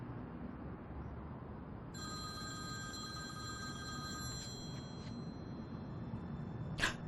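An incoming call sets a telephone ringing in a home, a steady electronic ring starting partway in and repeating in short bursts over low room noise, with no one talking.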